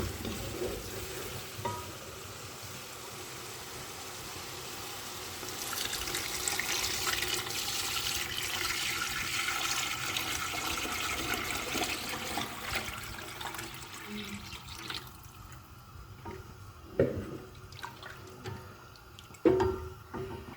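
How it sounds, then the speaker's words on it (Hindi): Gram flour and buttermilk mixture poured into a pan of fried spice masala while making Saraiki kadhi pakora, a broad watery splashing and sizzling rush that swells midway and then tapers to scattered clinks and drips. "अब हम इसमें बेसन वाली जो लस्सी है ना वो ऐड कर देंगे।"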